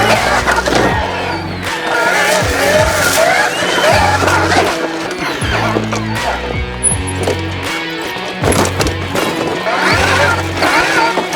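EM Epure FACTOR-e 2026 electric dirt bike ridden at full power and maximum speed in map 3, heard as a loud, continuous rush of motion, wind and terrain noise with thumps and knocks throughout.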